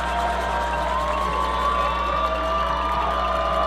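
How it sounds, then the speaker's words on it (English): High school football stadium crowd cheering at Walton versus Marietta, a sustained roar of many voices with shouts, under a constant low hum. "Here we go, the crowd coming alive here"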